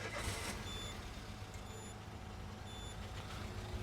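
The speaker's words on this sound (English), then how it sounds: "we'll start the car back up." A Peugeot engine idles with a steady low, rough rumble from a misfire, while faint high beeps repeat in the background.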